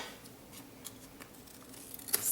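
A few quiet snips of scissors cutting card for a handmade watercolor greeting card, scattered soft clicks that end in a sharper, louder cut.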